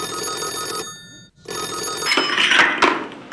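A telephone bell rings loudly in two bursts separated by a brief pause, with a busy clattering tone that fills the room and no talk over it.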